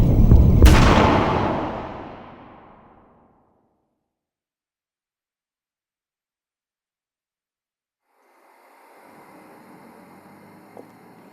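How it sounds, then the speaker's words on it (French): A single loud gunshot cracks out in a dramatized audiobook scene. A sharp blast rolls off into a long fading echo, then near silence, then a faint low ambience rises. "Un coup de feu, un seul, plus fort, déchira l'air."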